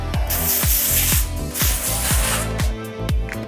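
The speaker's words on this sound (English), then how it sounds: "spray a little avocado oil on here" Quick, rhythmic spritzes of avocado oil spray onto a pan, about eight short bursts in a row, close by.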